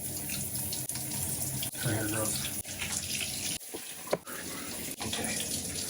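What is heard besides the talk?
shower water running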